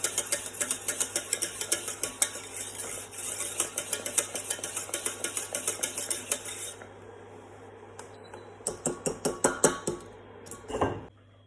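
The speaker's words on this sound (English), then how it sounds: "I'm going to keep stirring so it doesn't burn, for at least a minute" A spoon scrapes and clinks rhythmically against a pan while white cheese sauce is stirred, a fast run of close metallic taps that pauses briefly, then resumes in a short burst before fading.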